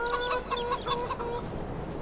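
Chickens cluck in a rhythmic series of short, bright calls in the Farming Simulator 22 video game, heard close and fairly loud against a steady ambient background.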